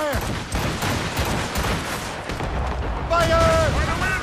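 Ship cannon and mortar fire during an Assassin's Creed Rogue naval battle, heavy booming blasts rolling over a loud, constant battle din, with shouted voices and a brief whistling tone near the end.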